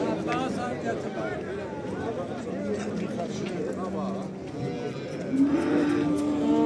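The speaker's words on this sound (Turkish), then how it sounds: "Bax belə bir inek var." A cow moos at a livestock market in Barda, with low bellowing calls mixed into steady market noise while people talk nearby throughout.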